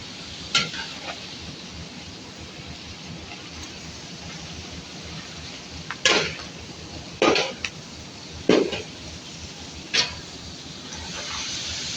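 Sliced onion, green chillies and ginger-garlic paste fry in a pan for beef fry, giving a low continuous sizzle with a handful of sharp spatula scrapes and knocks against the metal, close by and without talk.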